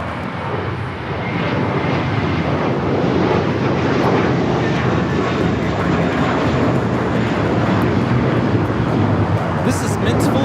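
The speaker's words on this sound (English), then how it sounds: "taking off to Boston on this A321 JetBlue 1388." A JetBlue Airbus A321 takes off at LAX bound for Boston, its engines producing a loud, steady broadband roar that swells after the first second and holds strong throughout, with faint talk beneath.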